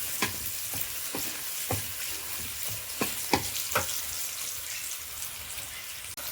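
A garlic and onion tadka fries for saag, a continuous close sizzle broken by sharp taps and scrapes of stirring scattered through it.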